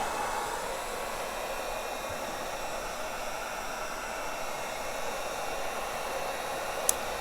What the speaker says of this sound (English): And now we'll need a heat gun.